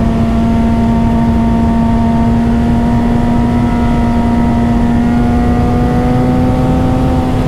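Motorcycle engine holding a steady drone at near-constant revs through spirited riding on a back road with a worn rear tire, loud and continuous with wind roar and no voices.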